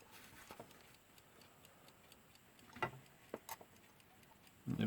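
A Veglia Azalea alarm clock movement ticks steadily and softly, with a few sharper clicks standing out near the end, close and quiet.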